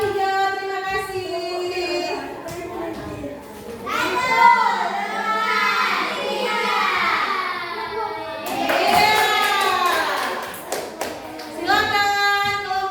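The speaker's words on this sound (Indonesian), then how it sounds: "Berikan aplaus dulu untuk kelompok hijau." Children in a classroom clap for a group of classmates during a teacher's practical teaching assessment in Banda Aceh, with a burst of close, dense clapping in the latter half, mixed with loud children's voices and chatter throughout.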